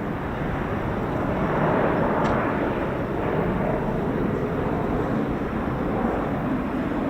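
Typhoon fighter jet arriving at RAF Fairford during the Royal International Air Tattoo, a broad continuous jet roar that stays steady and fairly loud throughout, with wind buffeting over it.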